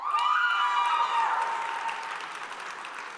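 Audience applause for a graduate receiving a diploma at the St. Ignatius College Preparatory Class of 2025 graduation ceremony: a broad, dense burst of clapping that starts loud and slowly tapers, with some cheering mixed in.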